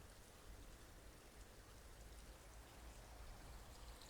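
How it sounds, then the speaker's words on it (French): Steady, continuous rush of flowing water, like a small stream running nearby, with no voices. "il y a une petite rivière juste là"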